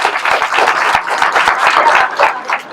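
Audience applauding a young cyclist selected for the Tour de Bretagne, brisk, close, loud clapping from a crowd with distinct individual claps in a quick, uneven rhythm over a few seconds.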